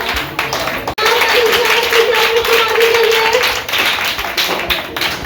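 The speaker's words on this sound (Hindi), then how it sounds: "रघु कुमार के लिए जोरदार ताली स्वागत कीजिए।" Loud clapping from a crowd at a cleanliness-fortnight award function where children are honoured, a dense burst of hands beating after a sharp knock, sustained and close with a tone and some voices mixed in.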